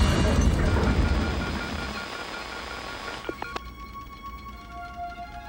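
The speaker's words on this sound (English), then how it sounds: "As the ship is crashing down to the Earth's surface" A spaceship crash-lands on Earth in a science-fiction film: a loud, broad rumbling roar fades out, followed by a few sharp metallic knocks and a thin lingering ringing tone.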